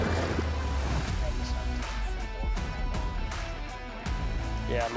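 Big Lake Michigan waves slosh and slap against a small fishing boat in a steady, rough wash, with thumps of the hull and wind noise close to the microphone.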